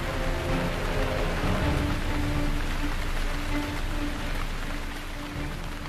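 Rain falls in a steady, dense hiss that covers the whole stretch, a continuous wash of drops on surfaces without pauses.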